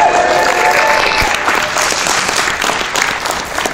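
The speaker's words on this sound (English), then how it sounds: "Big round of applause for Leanne, everyone." A crowd at the Edmonton Expo 2015 panel bursts into loud, dense applause that holds steady, then eases slightly near the end.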